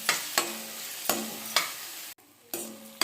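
Spinach with chilli powder sizzles in a frying pan, stirred in about five sharp scraping strokes over a steady hiss, with one short silent gap near the end; close and fairly loud, no voices.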